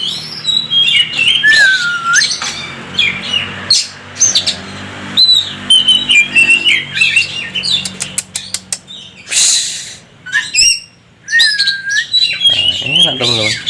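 A caged kacer, or magpie robin, sings loudly and close by in bright whistled phrases with sharp chirps and squawks, broken by wing flapping and the rattle of the bird striking the cage bars.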